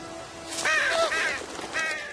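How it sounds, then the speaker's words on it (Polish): Several harsh raven caws ring out in quick succession in The Walking Dead video game, a pair of calls then a brief pause and another, fairly close with a faint electronic backdrop. "Kruki."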